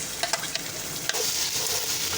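Green chilli paste being stirred into chicken frying with garlic, ginger and salt in a karahi, giving a steady close sizzle with a few scraping stirs of the spoon.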